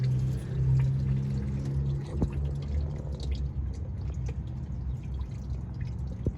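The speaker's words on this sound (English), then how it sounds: "And then I drained out the system cleaner with the distilled water." System cleaner and distilled water drain from the cooling system of a Mitsubishi 3000GT, a steady trickle with scattered drips over a low, continuous rumble, heard up close with no talking.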